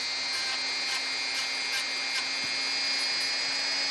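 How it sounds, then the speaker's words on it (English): Steady, hissy rubbing with a faint hum underneath, continuous and fairly close, like sandpaper worked back and forth by hand over a small wooden miniature piece. "Sand it down."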